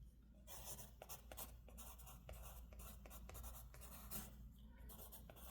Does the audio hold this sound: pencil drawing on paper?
yes